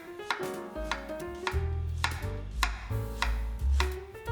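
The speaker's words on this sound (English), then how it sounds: "And now we're gonna slice it roughly." A knife slices an onion roughly on a board, making about seven crisp, evenly spaced chops, close and clear, with no voices.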